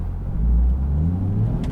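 A Chevrolet C8 Corvette test car in motion as its drivetrain engages smoothly, giving a low, steady engine rumble and a rising whir with no harsh jolts.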